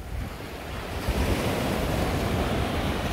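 Ocean surf rolls onto a beach at Mamucabinhas in Barreiros on the southern coast of Pernambuco, a continuous loud wash of breaking waves mixed with wind buffeting the microphone.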